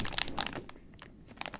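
A plastic bag of dish soap crinkles and crunches as it is handled up close, in short bursts of crisp rustling with brief pauses between them.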